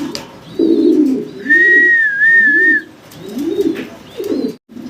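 Exhibition pigeons at a pigeon farm coo in low, repeated rolling phrases, close by, with a sustained whistling tone running over the middle of the calls.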